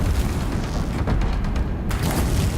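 An explosion in the video game Horizon Zero Dawn: a loud, rumbling boom with a sustained low roar that cuts off abruptly near the end.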